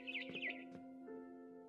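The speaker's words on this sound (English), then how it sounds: "Then I heard chirping outside my window." Birds chirp outside a window in What Remains of Edith Finch, a quick burst of several bright tweets, then a single short call, set against a steady humming tone in a quiet game scene.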